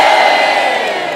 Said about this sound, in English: Big cheer for the Shrewsbury Brass Band and the Shrewsbury Male Voice Choir.